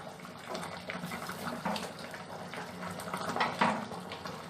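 A pot of ennai kathirikai kuzhambu, a Tamil eggplant curry, bubbles on the stove with a soft, continuous simmer of popping and gurgling, heard close and alone.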